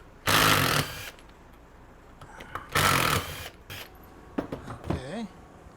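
A power drill boring into a metal billet in a shop while making a stool, two loud sustained whirring bursts separated by pauses, followed by softer rattling and a short winding-down whine.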